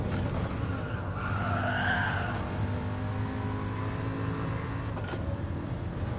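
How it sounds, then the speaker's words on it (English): Old-school V8 engine rumbling steadily in the GT Sport racing game, a continuous low growl with tire skid noise near the start, no talk over it. "nothing quite like the sound of an old school V8 just rumbling"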